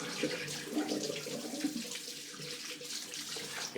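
Tap water runs into a sink for rinsing after a wet shave with Proraso Blue, a steady close splashing stream with a gurgle, no speech.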